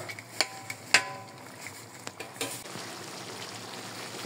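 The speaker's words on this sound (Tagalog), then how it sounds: "kulong-kulo na yung suka natin." Vinegar comes to a steady bubbling boil in a pot, with a few sharp clinks and taps early on and no voices.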